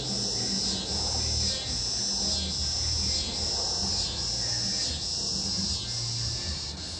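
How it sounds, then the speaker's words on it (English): Cicadas sing in a continuous high, shimmering drone with slight regular pulses, steady and fairly loud throughout, with a low hum beneath and no speech. "And as the cicada sings."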